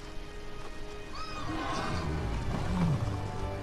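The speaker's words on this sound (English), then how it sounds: "Hey, they're the rainbow horses again." Horses whinny in the Mortal Kombat 11 story mode, with one rising neigh followed by a second lower call over a low rumbling game ambience and no speech.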